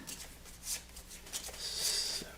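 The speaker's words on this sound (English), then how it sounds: "So I'll shuffle those, put them on the bottom." A deck of cards from the Lost Ruins of Arnak board game is shuffled close by, with short papery riffle bursts followed by a longer continuous shuffle near the end, heard alone without talk.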